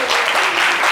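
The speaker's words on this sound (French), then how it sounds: "Applaudissements pour Shekina." Steady, dense applause from a studio audience on a live Ivorian radio-TV talk show, broadband and sustained throughout the short moment at fairly loud level with no clear gaps.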